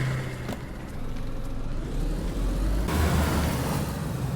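A car engine in the survival video game DayZ hums steadily at low pitch, rising in a continuous drone with a slight shift partway through, heard alone without talk.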